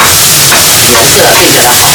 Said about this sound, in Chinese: 再炒一下这个菜